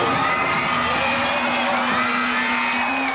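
Dense crowd of game show supporters cheering and whooping continuously, loud and close, a mass of shouting voices with children's shouts mixed in.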